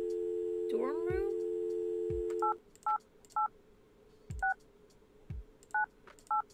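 Telephone keypad dialing in a point-and-click video game: a brief rising voice-like chirp, then a series of distinct electronic touch-tone beeps spaced irregularly over a low hum, with faint thumps between them.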